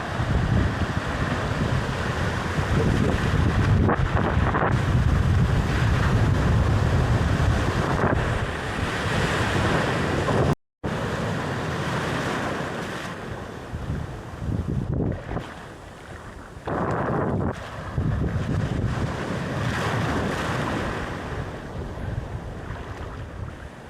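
Ocean waves rolling onto a shallow beach on Palawan island, a steady loud wash of surf with heavy wind buffeting the microphone, surging and easing in uneven swells with no voices.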